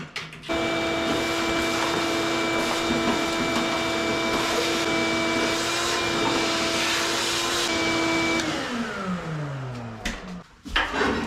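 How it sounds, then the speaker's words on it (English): A shop vac sucks up dirt and debris around the fuel tank of a Chevy Squarebody C10 pickup, a loud steady whine with rattling bits of grit, then winding down and cutting off near the end. "Let me get my shop vac, clean up all this dirt and debris so nothing really falls into the tank"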